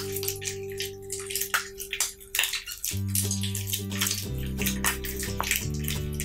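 Nineteen-week-old slime being squeezed and pressed by hand, giving close wet squelches, clicks and crackly pops in an uneven stream, with faint music playing underneath.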